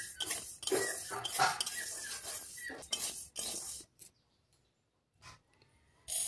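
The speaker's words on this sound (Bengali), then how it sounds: "এই সাবুদানাটাকে ভালো করে আমি কড়াইতে ভেজে নিচ্ছি" Scraping and rattling from a spatula stirring dry sago pearls roasting in a metal wok, busy at first, then sparse clinks with quiet gaps.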